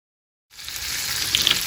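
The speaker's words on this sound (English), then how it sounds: "I place the cheese on the burger like this and fry for a few seconds" A beef burger patty topped with cheese sizzles in a hot pan, a steady close frying hiss that starts abruptly after a moment of silence and keeps crackling on its own.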